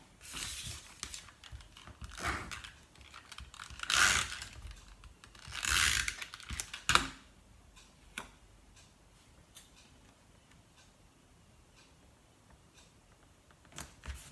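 Newsprint paper is cut for a mini album, giving close, scratchy ticking and rasping bursts, two of them louder, followed by a few faint clicks in near quiet.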